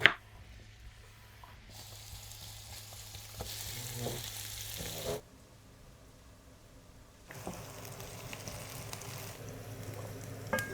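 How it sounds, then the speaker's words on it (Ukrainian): Carrots and onions frying in a pan on a wood-fired stove, a soft hiss of oil that swells and fades in stretches, with stirring scrapes and a clunk now and then, no voices. "Тепер нам потрібно обсмажити нашу моркву і цибульку"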